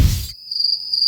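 After a brief burst of low noise, a cricket chirps in a steady high-pitched trill, close and clear, continuing alone to the end.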